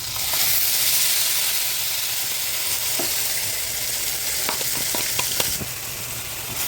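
A ground paste of tomato, ginger, garlic, cinnamon, clove and cardamom sautés in a pan for egg kuzhambu with radish, hissing loudly and steadily, with a few light stirring taps near the end.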